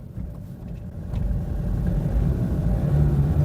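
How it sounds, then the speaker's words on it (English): Car with a semi-automatic gearbox failing to engage second gear: a low engine rumble and drivetrain hum that rises slightly and holds steady, with no clear shift, close and continuous. "So the car not engaging second gear"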